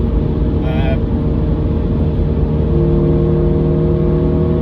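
A Honda Civic Type R FN2 engine sits held on launch control, giving a loud, steady, close drone with a strong low rumble that barely changes, and a short higher whine near the start.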